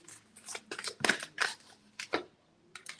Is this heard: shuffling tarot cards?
yes